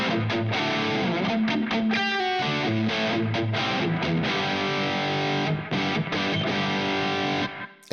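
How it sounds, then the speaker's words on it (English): Distorted electric guitar in a brown-sound style with a very short, tight echo, playing a continuous loud riff of chords and quick notes that stops abruptly at the end. "You can hear there that I've got a very short, tight echo to the sound."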